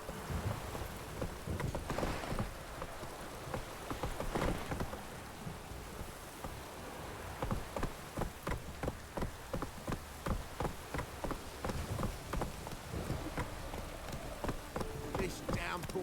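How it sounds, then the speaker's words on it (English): A heavy downpour in the video game The Witcher 3 keeps up a steady, dense hiss throughout. Rhythmic horse hoofbeats clop beneath it, and a voice speaks over the rain. "This downpour's a bastard,"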